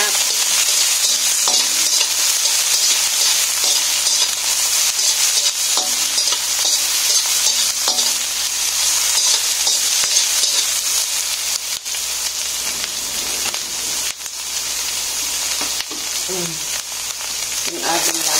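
Plenty of onions sauté in a hot pan for ginataang langka with crab, a loud continuous sizzle and hiss up close, broken by occasional stirring scrapes and clinks.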